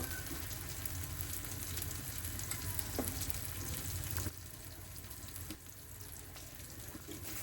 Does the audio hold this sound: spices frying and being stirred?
yes